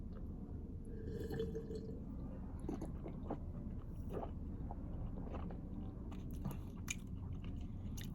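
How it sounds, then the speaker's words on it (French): Close, quiet mouth sounds of someone taking a last sip of 2019 Crozes-Hermitage Les Galets red wine from Domaine des Hauts Châssis: soft slurps, wet smacks and small swallows spread across several seconds, with no talking. "Une dernière gorgée."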